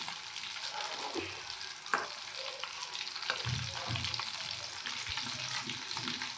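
Fish fingers fry in hot oil, a constant crackling bubble with occasional pops and soft low knocks, heard up close and fairly quiet, with nobody speaking.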